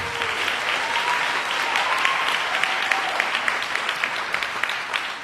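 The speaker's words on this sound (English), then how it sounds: "So give yourselves a round of applause." A gala audience applauds in a dense, sustained burst of clapping that holds steady throughout, with a faint voice briefly audible underneath.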